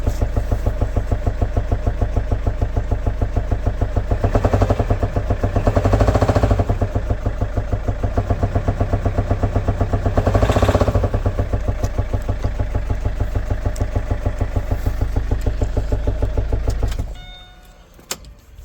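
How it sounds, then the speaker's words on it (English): A car engine, serviced without an oil filter, runs close up with a steady, rapid rhythmic ticking over a low hum, swelling briefly twice before cutting off abruptly near the end. "we started hearing the sound from the engine"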